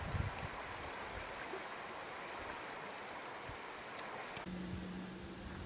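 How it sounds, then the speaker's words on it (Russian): A clear mountain river in Altai rushes along in a steady, moderately distant hiss of flowing water, with a brief low tonal hum near the end. "Наслаждался шумом воды."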